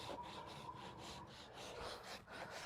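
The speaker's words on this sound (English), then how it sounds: "you see with the rasp that I don't push hard on the rasp" A farrier's rasp is drawn gently back and forth across a horse's front hoof wall, making faint, repeated dry scraping strokes at close range with no talk.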